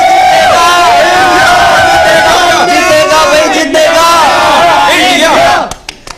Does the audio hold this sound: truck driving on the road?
no